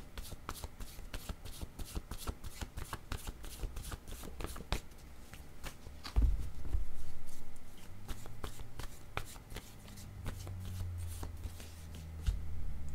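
Tarot cards being shuffled and drawn from the deck: steady quick riffling flicks up close, then a soft slide and tap as a card is pulled, with low room hum beneath.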